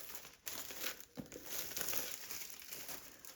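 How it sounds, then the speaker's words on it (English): Cellophane wrap is torn and crinkled off an Apple iPad Air 5th-generation box, a close, crackling rustle with a sharp rip near the start and steady crinkling after. "Come off, Mr. Cellophane."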